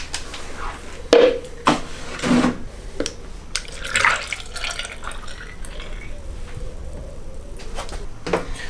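Old transmission oil drained from a Porsche Cayenne 3.0 TDI diesel's Aisin 0C8 gearbox being poured into a measuring container, with dripping and splashing liquid, a few louder pours early on, then a steady trickle.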